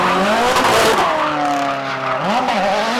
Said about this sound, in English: He's belting up, getting ready to warm up.